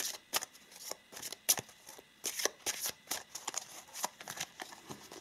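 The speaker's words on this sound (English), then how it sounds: "I'm also going to pull two of these romantic cards here." Tarot cards are shuffled and pulled from a deck, giving a steady run of crisp, close riffling and flicking bursts at a quick, uneven rhythm.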